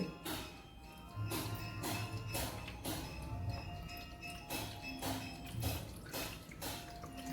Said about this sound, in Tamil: ஸோ நான் தண்ணி விட்டுறலாம் உள்ளுக்கு.